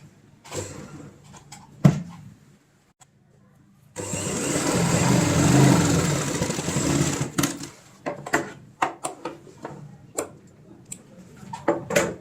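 A sewing machine runs a short stitching burst along the edge of a tote bag, a steady mechanical whir of a few seconds between quieter handling taps and clicks.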